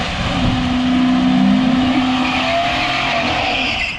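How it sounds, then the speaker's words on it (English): A car does a loud burnout nearby at a drag strip, engine roaring steadily while the tires squeal and hiss for several seconds before easing off. "Damn, nice burnout, Blake."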